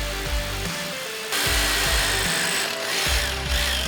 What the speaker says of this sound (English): used a hammer drill to drill the holes into the concrete